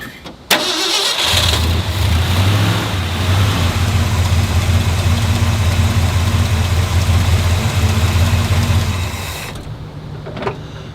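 A truck engine cranks and catches with a sharp start, then settles into a steady, loud idle close by for several seconds before shutting off.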